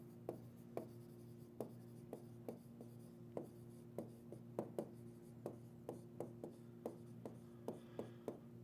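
A marker or chalk writes on a board in steady, separate strokes and taps spread over several seconds, quiet and close, with a faint constant hum behind and no talk.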